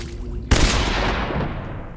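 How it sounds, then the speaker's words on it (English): A stun grenade blast in the Metal Gear Solid 3 video game, one sudden loud bang followed by a long ringing, hissing decay, with no talking. "Stun grenades."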